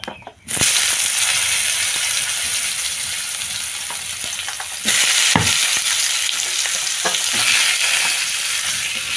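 Vegetables frying in a pan after a spice tempering, a loud steady sizzle that runs throughout with a brief quiet gap near the start and a surge midway as more food goes in.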